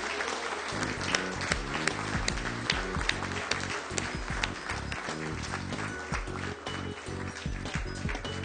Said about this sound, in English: Let us give her a round of applause once again